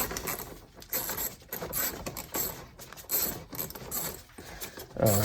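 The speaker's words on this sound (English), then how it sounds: "use an 8mm wrench or socket driver, and then just loosen the hose clamp." An 8mm socket driver loosens a hose clamp on the airbox of a Chevy Colorado, making quick ratcheting clicks and metallic rattles in short, uneven bursts close to the microphone.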